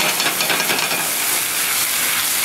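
Apple cider reducing in a hot pan, used as stock with onions alongside pork chops: a loud, steady sizzling hiss, close up and constant, with no talking.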